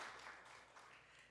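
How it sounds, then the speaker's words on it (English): Audience applause at a live book talk, steady broadband clapping from a crowd heard alone at a moderate, even level for a brief stretch. "You can applaud that."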